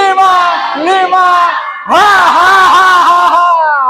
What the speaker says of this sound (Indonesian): Sekencang-kencangnya teriak ya